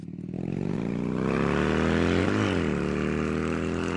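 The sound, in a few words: motorcycle engine running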